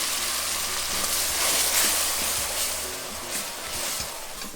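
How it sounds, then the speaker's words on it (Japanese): Steady, crackling sizzle of white wine hitting a hot pan while cooking octopus ragù, loud and continuous with bubbling pops throughout. "こんな感じだったらもう一回白ワインを入れます。"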